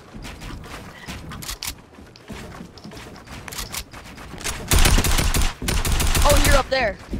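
Rapid bursts of game gunfire from a newly tried gun in a one-on-one match, quieter scattered shots early, then a loud dense volley building near the end, with faint talk underneath.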